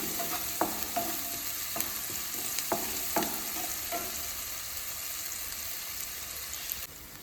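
Onions that have browned sizzle steadily in a pan with ginger garlic paste, a bright hiss broken by several clicks and scrapes of a stirring spoon, and the sizzle fades a little near the end.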